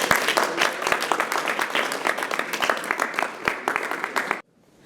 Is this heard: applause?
yes